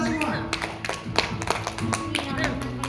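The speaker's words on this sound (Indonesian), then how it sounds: "tepuk tangan buat kita semua" An audience at a spiritual motivation gathering claps in a quick, uneven burst of applause close by, with voices talking over the clapping.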